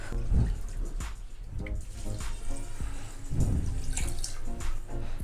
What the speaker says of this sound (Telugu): బియ్యాన్ని బియ్యం 2 సార్లు కడిగి నీళ్ళు పోసి పెట్టుకుందాము.